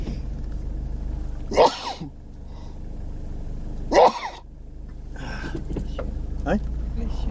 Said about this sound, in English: Now I'm going to sneeze.